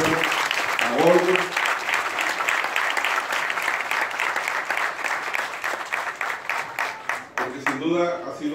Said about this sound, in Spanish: Un aplauso a la Policía Municipal de Pénjamo, a Goyo.